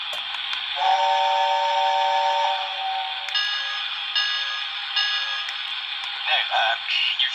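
Lionel battery-powered O gauge Hogwarts Express toy train giving its steam whistle, a loud, steady tonal whistle over hiss that holds for about seven seconds with a few shifts in pitch.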